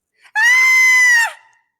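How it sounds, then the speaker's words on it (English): A single sustained high-pitched scream in an audio drama, loud and close, holding steady for about a second before trailing off. "there's a high pitched scream and wailing."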